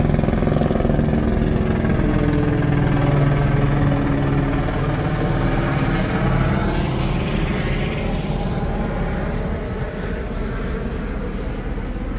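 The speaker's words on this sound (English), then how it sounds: "a chopper still looking for somebody." A police helicopter's rotor chops steadily overhead during a search after a car chase in Hemet, a loud, continuous throbbing drone that shifts slightly in pitch as it hovers.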